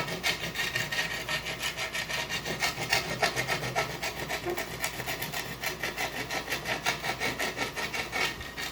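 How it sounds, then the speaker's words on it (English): Steady, rhythmic abrasive rubbing as a cement faux sandstone fountain bowl is gently sanded around its thin rim; close, continuous back-and-forth scraping strokes with no talking. "We're just going to gently go around and just sand it down."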